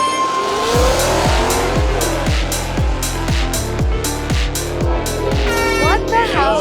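Loud cabin of a weight-stripped race car under acceleration, engine droning with rhythmic gear-change pulses and tire noise, stones and pebbles rattling against the underbody throughout, a voice briefly audible near the end.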